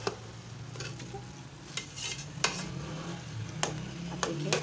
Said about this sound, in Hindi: अब देखिए अच्छी तरह इसको मिक्स करना है, भूनना है इसको